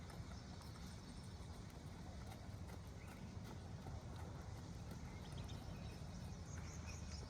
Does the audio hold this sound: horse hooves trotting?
yes